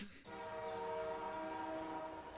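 A train in an anime episode sounds its horn in a sustained, steady chord of layered tones that starts abruptly after a brief quiet moment and holds loud and close to the end, with no talking.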